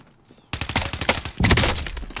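An SKS rifle fires in Warzone on Rebirth Island, a quick string of sharp loud shots beginning after a brief quiet moment, close and punchy with no talk.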